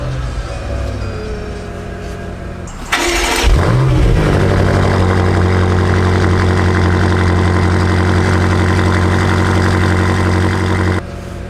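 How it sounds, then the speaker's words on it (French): A BMW M5 F90 sits quiet, then its engine cranks and fires with a brief rev flare. It settles into a loud, steady, close idle that holds for several seconds before cutting off abruptly. "il n'y a plus qu'à mettre le contact."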